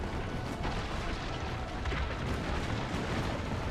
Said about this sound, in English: Ezio needs to man the cannon and fire at siege towers to protect the villa